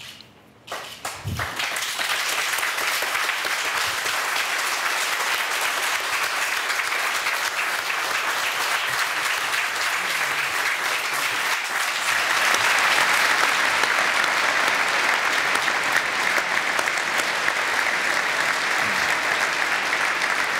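Talk show studio audience breaking into sustained applause after a brief quiet start, a thick even wash of clapping that swells louder around the middle and keeps going for about twenty seconds.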